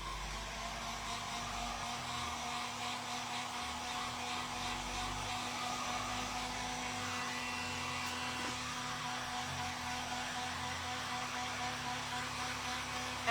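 A hair dryer blows steadily on stamped book paper, a constant close whooshing hum that holds at the same pitch without a break.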